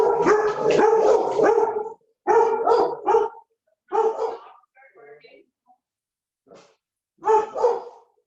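Dogs barking in a few bursts of several sharp barks each, close and fairly loud, with quieter yips and pauses between groups.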